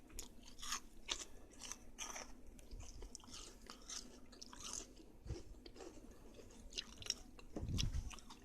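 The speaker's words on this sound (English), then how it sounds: "I'm just going to take a little bite from it." A crunchy fried codfish fritter (bacalaito) being bitten and chewed up close, a steady run of crisp crunching chews with occasional louder bites, fairly quiet and without talking.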